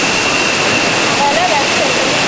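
A two-tiered waterfall in Costa Rica roars as a steady, dense rush of falling water, loud and continuous, with faint voices in the background.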